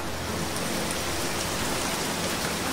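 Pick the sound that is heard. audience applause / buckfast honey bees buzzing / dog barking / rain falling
rain falling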